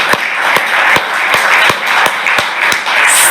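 Applause from a gathering at an IMF address on Sri Lanka's crisis, with distinct sharp claps standing out regularly above a continuous wash of crowd noise, close and fairly loud throughout.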